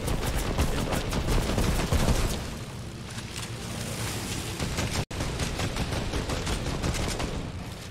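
Rapid automatic gunfire in the Fortnite video game, a dense, loud stream of overlapping shots that stays steady for several seconds, with one brief break near the end.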